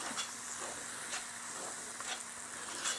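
A spoon stirs a leftover turkey mixture in a hot pan, with soft scraping strokes over a continuous low sizzle and a faint steady hum, close and quiet, with no talking.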